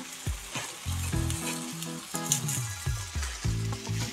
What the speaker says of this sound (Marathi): 5 मिनिटं आपल्याला थोडं फ्राय करून घ्यायचं आहे तेलामध्ये।